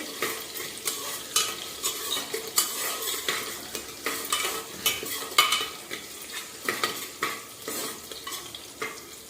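Ginger being stirred and fried in a pan for daliya khichdi, with repeated scraping clinks of a spatula against metal over a soft sizzle, close and steady.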